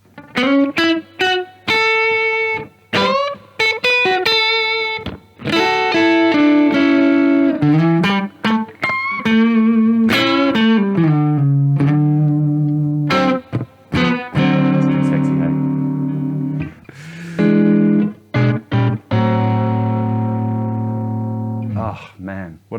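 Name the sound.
electric guitar with delay effect, Gibson 335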